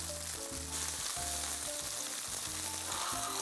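Several patties fry in a pan with a constant hissing sizzle, heard alongside steady tonal background music.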